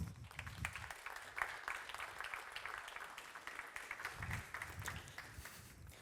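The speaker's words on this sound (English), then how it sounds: "So please give an applause to none other than core engineer and Penumbra Labs" Quiet audience applause for a Penumbra Labs core engineer taking the stage at a tech talk, a soft steady patter of clapping lasting several seconds, fairly distant and without talk.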